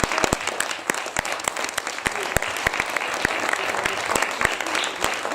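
An audience claps for a musician at a concert, a dense burst of applause with sharp individual claps standing out, continuous and fairly close, with faint talk underneath.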